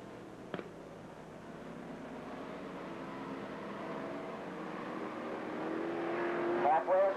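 Street stock race cars at Lake Geneva Raceway, Wisconsin, running side by side with a steady engine drone that swells toward the end, a sharp knock early on, and a commentator talking over the noise.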